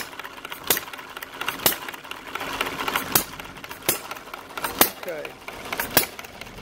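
A hit-and-miss engine runs at a slightly raised speed before crushing cans, giving sharp periodic firing pops roughly once a second over a steady mechanical clatter, close and fairly loud, with a brief spoken word.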